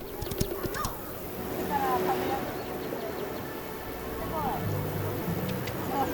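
Horse hooves clatter in a quick galloping rhythm in strong wind during yabusame mounted archery, under a commentator's voice, with a faint whinny and outdoor background noise.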